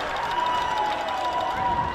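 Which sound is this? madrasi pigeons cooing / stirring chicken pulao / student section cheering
student section cheering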